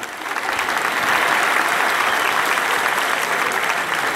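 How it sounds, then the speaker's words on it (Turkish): Crowd at a university graduation ceremony applauding in a dense, steady burst of many clapping hands that fills the hall without pause. "Vallahi bir alkış daha."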